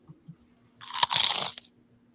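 A voice makes a harsh, hissy crunching noise lasting about a second, imitating something crunchy, after a couple of faint clicks.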